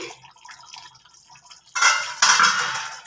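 A pot lid lifted off a simmering pan of doi katla, a Bengali fish curry in yogurt gravy with cream and cheese, gives a sudden near metallic clatter followed by a bright hiss of steam and bubbling.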